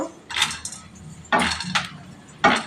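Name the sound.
frying coriander and black pepper in a pan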